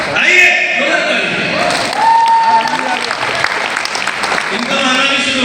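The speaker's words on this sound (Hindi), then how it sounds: "आइए जोरदार ताली।" Audience applause at a ZedPay company business meeting in Madhya Pradesh: a dense, steady wash of clapping sustained for several seconds, with voices and cheering mixed in.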